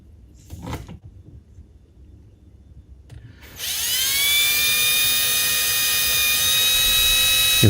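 Electric drill starts after quiet handling noises, then runs loud and steady with a high whine, boring string-through holes in a handmade ergonomic guitar body guided by a small jig.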